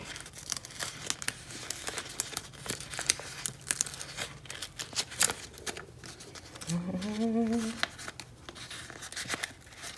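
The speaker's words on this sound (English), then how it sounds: "The trick here is for me to get all these little detaily things to peel off without ripping anybody." Small layered vinyl decal pieces peeled slowly off their backing, giving repeated soft crinkling and tearing crackles at close range, with a brief tonal squeal partway through.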